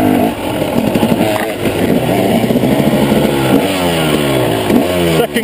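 An off-road motorcycle ridden in second gear through rutted ground on a trail lap, its engine close and loud with a steady, throbbing note that rises and falls as the throttle varies.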